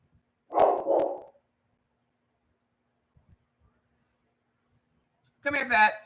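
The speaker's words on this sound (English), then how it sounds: "Is he barking at you?" A dog named Fats barks indoors, two or three loud close barks at the start, then near silence with faint knocks before a voice speaks at the end.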